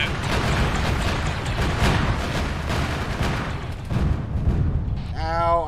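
In the ArmA 3 video game, heavy booming blasts and gunfire rumble for several seconds in a loud, dense burst that ends with a short electronic warble.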